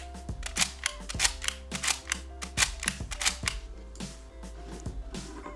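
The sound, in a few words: Frozen 2 toy hair braiding machine braiding a strand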